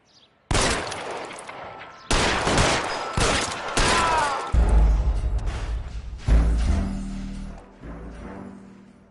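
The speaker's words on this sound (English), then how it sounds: "All units, shots fired, officer needs help." Bursts of loud gunfire ring out in the video game LA Noire, several sharp volleys and single shots in quick succession, close and echoing, with no talking.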